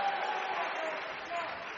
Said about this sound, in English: Great to hear the applause of appreciation for the technicalities of this contest.